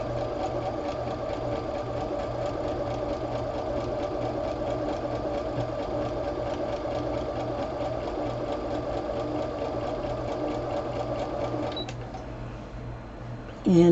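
A sewing machine runs steadily, stitching a quarter-inch seam in fabric pieces for a crumb quilt square; the motor hums continuously and close for about twelve seconds before slowing and stopping.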